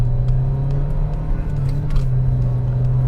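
A modified JDM-style car accelerates hard during a pull test in manual mode, its engine a loud, steady droning rumble held close throughout with no break.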